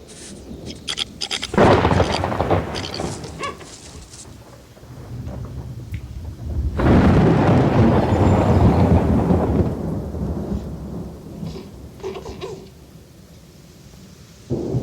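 A thunderstorm with heavy rain, two long loud rumbling rolls of thunder over a continuous hiss of rainfall, the storm fairly close and dominant throughout.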